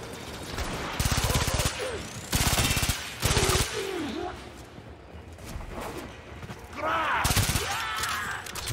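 The Baza Prime in Warframe fires in loud, rapid short bursts, about four of them, each a tight rattle, with quieter game sounds between the bursts.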